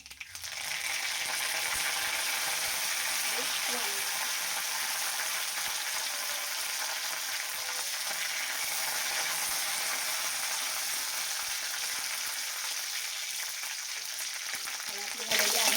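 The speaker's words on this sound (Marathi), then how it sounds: "आणि आता घालूया कढीपत्ता." Curry leaves crackle and sizzle in hot oil with mustard seeds for a coconut chutney tempering, a loud, steady frying hiss that runs without a break and rises slightly at the very end.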